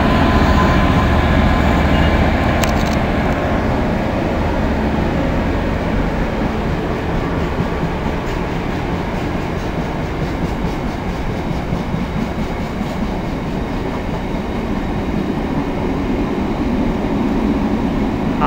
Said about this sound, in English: 66136 now in attendance with a coal train.